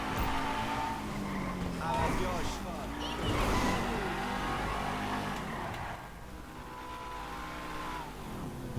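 A car accelerates in the video game GTA V, its engine revving and rising in pitch with a few swells, under and between people talking, before settling into a lower steady drone.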